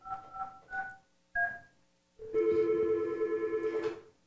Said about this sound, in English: So Johnny calls.